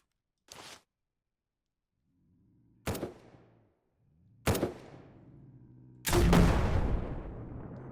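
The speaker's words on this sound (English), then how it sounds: "Start using some grenades now." Grenade blasts in the video game SurrounDead: four separate booming explosions spaced a second or two apart, the last loudest and trailing into a long rumbling tail, with a low hum between them.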